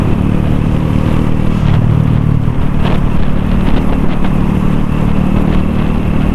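Bored-up Honda Supra motorcycle engine at full throttle, a loud, dense, continuous roar that holds steady throughout with no pauses.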